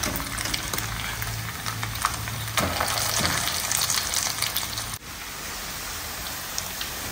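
Onions sizzle steadily in a hot pan as they brown, a dense crackling hiss with stirring and turning sounds, briefly dipping before the frying continues.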